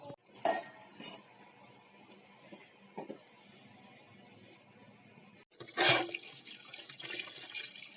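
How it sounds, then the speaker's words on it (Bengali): Raw chicken meat is rinsed under running water, with short splashes and clinks at first, a quiet pause, then a louder stream of water near the end. "মাংস কাটা শেষ, এখন ভালো মতো ধুয়ে নিব।"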